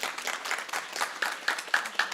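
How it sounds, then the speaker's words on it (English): Audience applause in a live gathering, a fairly faint round of clapping with a few sharper claps standing out over about two seconds. "Can we give a big round of applause here?"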